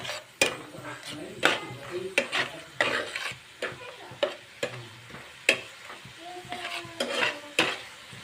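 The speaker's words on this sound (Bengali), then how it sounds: "এখন মশলাটা একটু কষাবো" A spoon repeatedly scrapes and clinks in a pan as salt, chili powder and turmeric fry and sizzle for a fish, eggplant, potato and tomato curry, the stirring close and rhythmic over a low sizzle.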